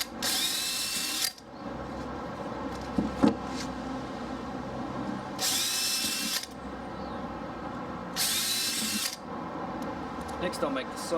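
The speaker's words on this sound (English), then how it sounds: "Next I'm just drilling 2 holes in each flange so I can attach it to my aviary." A power drill bores holes in a flange for a pheasant aviary birdhouse, three loud, whining bursts of about one second each, separated by quieter stretches of handling noise and room sound.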